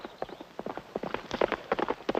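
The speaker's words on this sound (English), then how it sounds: "The horse is throwing, it's dragging its rider." A horse gallops in a Western frontier setting with its rider being dragged, a brisk, uneven run of hoof clip-clops and scuffs rising to loud, close impacts, with no talk over it.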